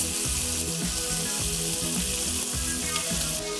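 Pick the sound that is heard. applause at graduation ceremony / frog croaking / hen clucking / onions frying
onions frying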